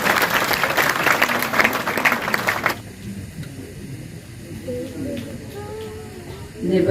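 Audience applause for a singer at a Samvedna Society awards function, loud dense clapping that cuts off abruptly partway, leaving a quieter room with faint voices and scattered noise.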